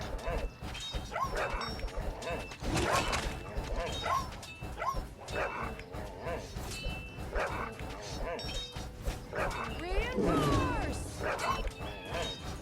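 An explosive dog in Kingdom Rush Origins barks and yips several times amid chaotic game sounds, crashes and effects, with intermittent voices.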